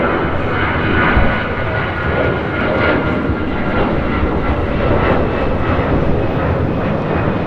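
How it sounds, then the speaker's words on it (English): A China Airlines Cargo Boeing 777 freighter touches down on runway 25 left at LAX, inbound from Taipei, its engines giving a steady, loud, broad roar that holds evenly throughout. "touching down here on 25 left is China Airlines Cargo 777 freighter coming in from Taipei"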